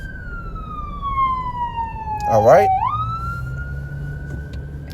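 An ambulance siren wails past on the street, its long falling tone broken by a quick yelp burst before rising again, heard nearby while someone speaks briefly.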